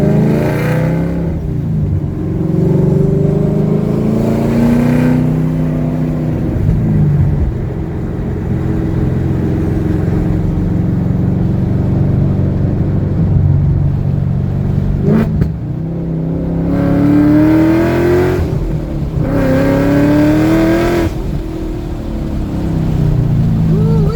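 A built 2015-2017 Ford Mustang's engine revs up and down repeatedly, rising and falling in loud, close surges with several throttle blips, with no talking.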